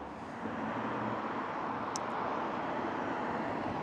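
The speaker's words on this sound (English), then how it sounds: "Sorry about the traffic noise, it's double busy around here." Steady broadband road traffic roar on a busy street in Blackpool, a constant wash of passing cars with no clear breaks, moderately loud and continuous throughout.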